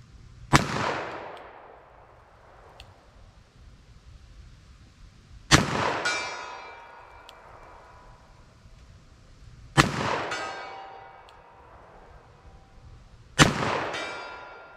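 Four loud gunshots from .44 Special and .45 ACP handguns, spaced several seconds apart, each a sharp crack followed by a long ringing decay, heard alone outdoors.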